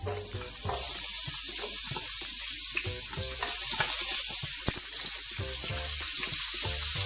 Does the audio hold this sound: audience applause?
no